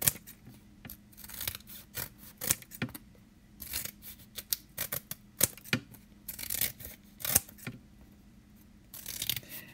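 Paper sheets being cut with scissors or a paper trimmer for stamped card layers, giving a series of short snipping and rasping strokes at close range with quiet gaps between them.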